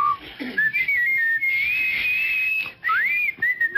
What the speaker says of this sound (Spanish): El cazador iba silbando.